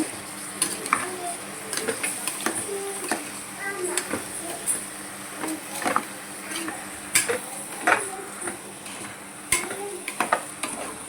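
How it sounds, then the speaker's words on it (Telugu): Vegetable pulao rice stirred in a pot with a spoon, giving repeated scraping and clinking strokes over a faint background sizzle, close and moderately loud. "మంచిగా రైస్ అంతా కలిసేలాగా కలిపేసుకుంటాం"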